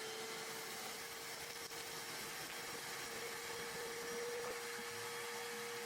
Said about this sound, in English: Now I'll show you sucking up over 5 gallons of sawdust.